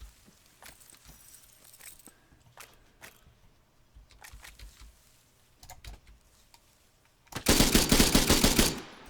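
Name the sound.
machine gun fire in the video game ARMA 3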